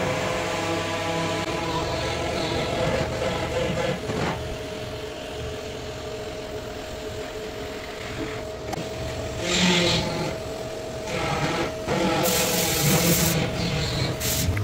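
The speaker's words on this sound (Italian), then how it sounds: "E ci facciamo la nostra saldatura interna." MVM nitrogen plastic welder fusing a PP filler rod into car interior plastic, giving a steady hiss and rubbing rasp throughout, with brief bursts of brighter spray-like noise near the end.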